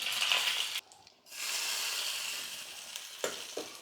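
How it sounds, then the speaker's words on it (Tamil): Hot curry leaf tempering poured into coconut chutney gives a loud, close sizzle that briefly drops away, then surges back into a sustained crackling hiss, with a couple of faint clinks near the end. "இதை எடுத்து சட்னியில் ஊற்றிடுவோம்"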